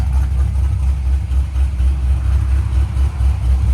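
A cammed Chevy Corvette Z06 with a 7.0L V8, headers and exhaust valves closed, idles in a deep, steady, loping rumble that stays loud and close throughout, with no talking.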